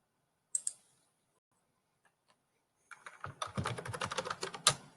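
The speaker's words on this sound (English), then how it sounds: "I'm going to start doing the typing" Rapid typing on a computer keyboard, close and clear, with a lone pair of clicks first, then a quiet pause before a dense run of keystrokes.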